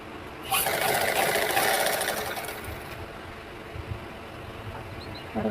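A sewing machine stitches the lining around the neck of a blouse in one steady, close whirring run of about two and a half seconds. The run then fades into quiet handling noise.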